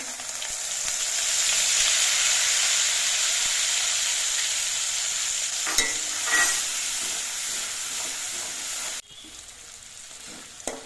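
Spice paste poured into hot oil with fried ginger paste sizzles loudly and steadily while being stirred, a broad hiss for about nine seconds before dropping sharply quieter, with a few clinks of the spoon against the pan.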